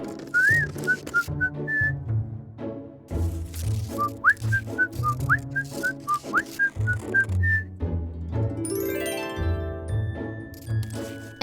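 Someone whistles a bright, bouncy tune in short phrases over a light instrumental backing, ending with a quick rising run of tinkling notes.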